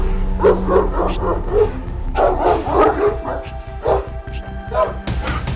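A dog barks repeatedly in short, close bursts while a person talks over it.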